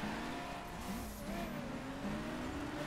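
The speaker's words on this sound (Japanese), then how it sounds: "うるさいよ、後ろの車" Car engine noise in The Crew Wild Run racing game, a steady droning rev with rising and falling pitch held close throughout, with no talk over it.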